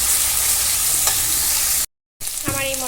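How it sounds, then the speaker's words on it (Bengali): Mutton masala with ginger garlic paste being stirred and fried in a pan, a steady loud sizzle broken by a brief gap, then clinks of the spatula against the pan. "এবার এটা খুব ভালো করে নাড়াচাড়া করে কষিয়ে নেব।"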